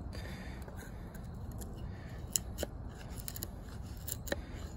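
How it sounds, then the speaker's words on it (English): A knife spine scrapes resin-rich fatwood, a series of faint close rasping strokes with a few sharper scratches, heard alone. "I'm gonna test out the spine to see if it'll scrape the wood."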